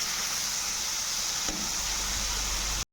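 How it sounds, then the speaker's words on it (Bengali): A paste of ginger, chilli, cumin and chopped tomato fries with pointed gourd in a pan, giving a constant close hiss of sizzling oil with a soft knock midway, no voices. "দিয়ে মশলাটাকে ভালো করে কষিয়ে নেব পটলের সঙ্গে।"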